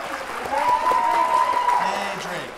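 An audience at a high school spring choral concert applauds in a short burst of steady clapping, while a single voice speaks over it.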